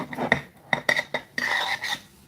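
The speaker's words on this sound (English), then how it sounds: "So we cut pizzas into 8 slices" A pizza cutter slices through a pizza, making a quick series of sharp scraping and clicking strokes with brief pauses between them, close and fairly loud.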